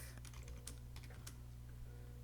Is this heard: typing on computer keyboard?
yes